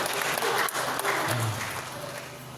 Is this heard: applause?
yes